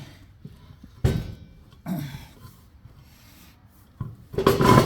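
A tire on a derby hauler scrapes and rubs against the wheel studs as it is lined up: three separate gritty rubbing bursts, close and fairly loud, with quiet pauses between them.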